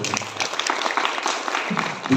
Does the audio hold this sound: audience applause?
yes